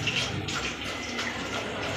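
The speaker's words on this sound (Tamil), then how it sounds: "இப்ப தண்ணி தெளிச்சுக்கலாம்" Water sprinkled by hand onto snake gourd chilli batter makes a soft splashing, trickling patter, close and continuous over about two seconds with no talk.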